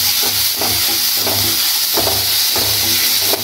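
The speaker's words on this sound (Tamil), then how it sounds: "இந்த கேரட் ஒரு 1 மினிட் நல்லா குக் ஆகட்டும், வெயிட் பண்ணலாம்." Carrots fry in a pan for Indian-style macaroni pasta, a steady loud sizzle and hiss broken by regular scraping stirs about every half second.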